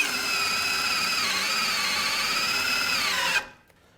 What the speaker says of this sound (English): I'm going to line my drill up